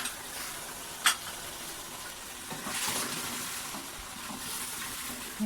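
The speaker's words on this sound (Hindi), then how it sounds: "ये जो पेस्ट हमने बनाया है दही का और प्याज का, ये पेस्ट हम इसमें डाल देंगे। हमारा चिकन इतने में ही भून जाएगा अच्छे से।" Chicken frying in a pan with a yogurt and onion paste for white korma, a steady close sizzle with occasional stirring scrapes and a brief clink, no voices.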